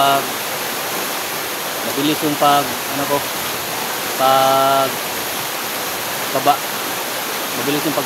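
A creek's flowing water makes a steady, even rush throughout, with a few short bursts of voices over it.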